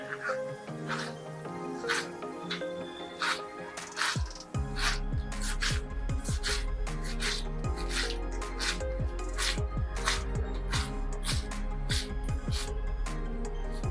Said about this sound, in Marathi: आणि अगदी बारीक असा पालक चिरून घ्यायचा आहे